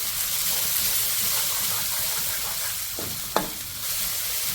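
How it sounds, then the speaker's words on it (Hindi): Red onions sauté in oil in a pan for chicken chilli, with a continuous dense sizzle and hiss throughout and a single sharp metallic clank of a utensil near the end. "रेड अनियन को थोड़ा सॉटे कर लेंगे इसके साथ"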